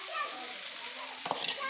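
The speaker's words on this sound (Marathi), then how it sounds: "तर आपण आता हे नूडल्स कढईमध्ये टाकूया।" Noodles frying in a kadhai: a brief, steady hiss of sizzling with a light stirring clatter near the end, fairly soft.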